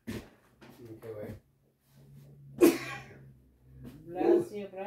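A single sharp sneeze bursts out partway through, between stretches of quiet conversation in a room where people are reading scripture aloud.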